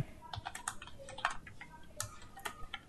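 Fingers tapping a computer keyboard while typing in MS Word, quick irregular clicks close up, with no voice over them.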